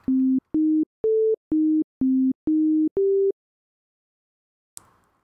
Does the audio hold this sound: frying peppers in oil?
no